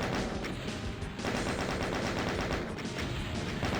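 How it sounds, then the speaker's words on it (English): Rapid chain gun fire at the Cyberdemon in DOOM Sigil, a dense, continuous rattle of shots running the whole stretch with a brief break near the middle. "somehow I did defeat the Cyber Demon, ending up with the chain gun doing so"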